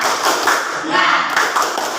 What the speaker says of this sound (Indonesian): Kalau begitu tepuk semangat.